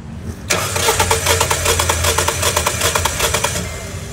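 After a brief quiet moment, a car engine cranks over with a fast, even rhythmic churning for about three seconds during a compression test on cylinder one, loud and close with no voices.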